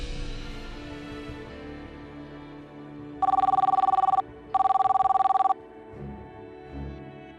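A telephone rings in two loud electronic bursts, each about a second long with a short gap between, standing out sharply over a quiet room.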